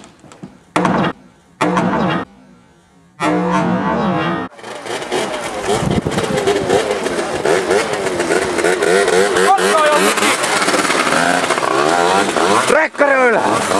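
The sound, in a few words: tuned scooter engine revving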